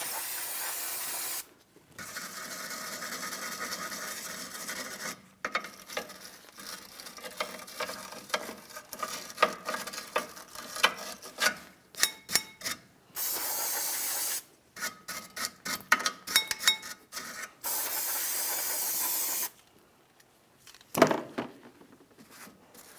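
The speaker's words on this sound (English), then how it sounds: "I'll use some parts cleaner and a wire brush." Parts cleaner hisses in several long, loud spray bursts over a ball joint mounting area on a 2007-2014 Ford Edge front suspension, broken up by irregular scratchy scrubbing strokes from a wire brush, all close up with no talking.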